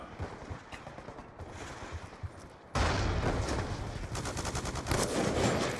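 Black Ops 2 gunfire: sporadic faint shots at first, then a sudden loud burst of rapid automatic fire that rattles on with fast, evenly spaced cracks to the end.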